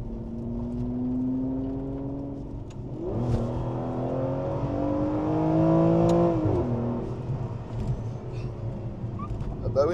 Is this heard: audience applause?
no